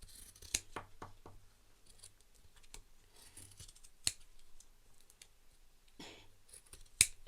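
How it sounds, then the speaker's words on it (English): Scissors snipping along the side of a book: a quiet, close run of crisp irregular cuts with short pauses, plus a few sharper clicks, and no talking. "And I'm just going to cut along the side of the book."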